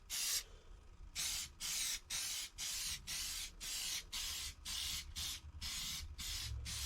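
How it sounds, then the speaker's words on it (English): Repeated bursts of black aerosol spray paint, about ten short hissing blasts in a steady rhythm with brief pauses between, close and loud. "It's a spray can."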